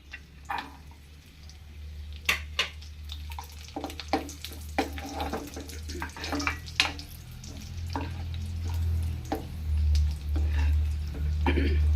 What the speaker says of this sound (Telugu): ఇప్పుడు బ్రెడ్ కూడా కాజు ఫ్రై అవుతున్నాయి కదా, ఇప్పుడు కిస్మిస్ కూడా వేసుకుందాం